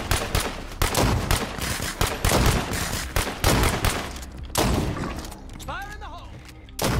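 Video game gunfire from State of Decay 2 crackles in repeated loud bursts and booming thuds for most of the stretch, dense and close, then thins out near the end.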